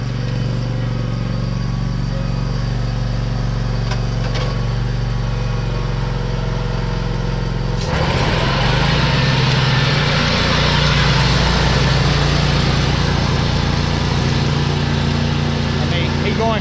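Raptor lawn mower fitted with a permanent chute block, running and mulching at a loud steady drone that grows louder and rougher about halfway through as it cuts into grass; a voice talks over it.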